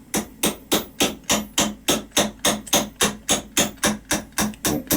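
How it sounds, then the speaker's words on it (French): A fairly large hammer taps gently and repeatedly on a very dry small wooden piece, about three sharp knocks per second in a steady rhythm, close and clear with no talking. "en le posant au-dessus d'un espace vide et en tapant dessus gentiment au bout"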